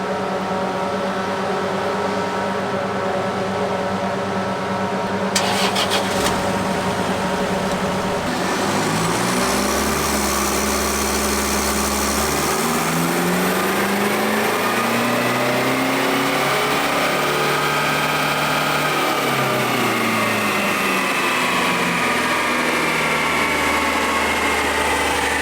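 A truck engine revs on a dynamometer in Thailand, a steady loud drone that climbs and swells through a long pull, with rising and falling tones and a brief rattling burst partway in, no talk.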